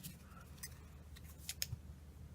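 Scissors snip through craft wire for a daisy flower pot, making a few faint, sharp clicks spaced unevenly, with two quick cuts close together near the end against a quiet room.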